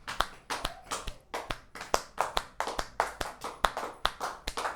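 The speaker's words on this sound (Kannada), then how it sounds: "ಚಪ್ಪಾಳೆ ಬಾರಿಸಿ ಬೆರಳುಗಳನ್ನು ಅಗಲ ಮಾಡಿ ಚಪ್ಪಾಳೆ ಬಾರಿಸಿ 20 ಸೆಕೆಂಡ್ಗಳವರೆಗೆ" Hands clap with fingers spread in a steady, brisk rhythm, about three to four sharp claps per second, close and moderately loud, with no voices.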